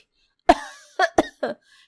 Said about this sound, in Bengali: আর কাশি